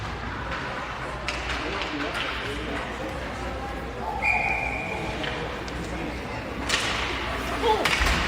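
Referee's whistle at a youth under-13 ice hockey game, a steady tone blown twice in the middle of the clip, moderately loud over constant arena crowd noise and commentary.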